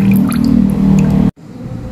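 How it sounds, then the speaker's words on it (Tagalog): Calamansi juice is squeezed into soy sauce, a close wet dribble and splash lasting about a second before stopping abruptly, followed by quiet room tone. "Lagyan ng kalamansi ang toyo."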